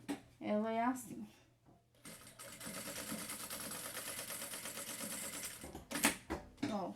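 Sewing machine stitching a seam with a backstitch at the start and end, a steady rapid mechanical whir lasting several seconds, bracketed by someone speaking Portuguese before and after.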